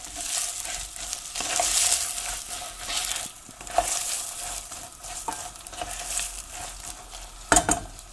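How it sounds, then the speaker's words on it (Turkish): Beans tipped into browned, sizzling meat in a pan for Turkish etli kuru fasulye and stirred, a steady frying hiss with soft scraping stirs and a few sharper clinks, close and continuous. "Bu aşamada fasulyelerimi de ilave edip şöyle bir çevireceğim."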